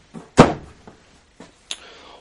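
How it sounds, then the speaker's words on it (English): A hidden Lazy Susan cabinet swings open inside a 2011 Heartland Bighorn 3670RL fifth-wheel RV: a few light wooden knocks, one loud thunk, then a softer clack with a brief rattle, close by and without talk. "we have a hidden Lazy Susan that opens up for a little bit of extra storage."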